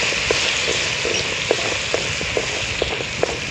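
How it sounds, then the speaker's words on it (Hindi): Tablespoon of garlic-ginger paste frying in a hot pan of browned ingredients for dal gosht, a steady close sizzle with occasional sharper pops and crackles, no talk. "अब मैं लहसुन, ये 1 टेबल स्पून है लहसुन अदरक का पेस्ट वो मैं डाल देने लगी हूँ।"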